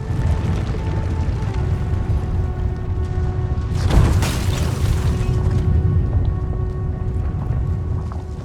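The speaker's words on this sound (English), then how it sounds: "Something offshore. The temple is sinking" A deep, sustained rumble as a temple sinks offshore in Diablo IV, a loud low roar with a swelling crash around its middle, backed by steady tonal score.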